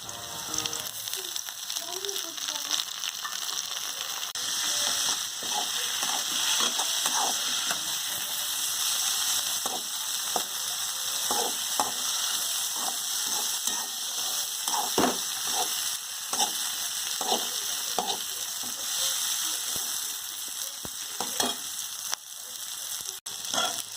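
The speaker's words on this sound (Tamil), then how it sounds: "இப்போ கொத்தமல்லி, புதினா நல்லா வதங்கிடுச்சுங்க." Coriander and mint leaves with a little urad dal sauté for chutney in a hot pan, a continuous close sizzle broken by frequent rhythmic scraping strokes of a spatula, with no talking.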